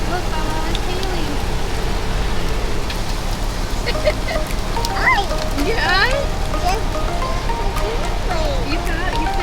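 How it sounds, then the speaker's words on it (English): Hail falls during a storm, a steady patter of pellets under the hiss of rain. Traffic passes nearby, and people talk over the continuous downpour. "it's hailing"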